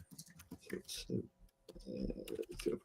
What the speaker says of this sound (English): The E has just started to go on my keyboard, so I'm trying to type really carefully.